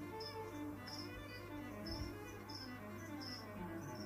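Crickets kept as live food for monitor lizards chirp in a steady, repeating rhythm, short regular trills close by over a low background hum, with no talking.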